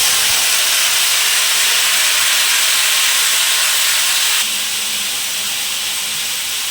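Washed potatoes are dropped into hot oil in a wok, giving a loud, steady frying hiss that eases a little partway through.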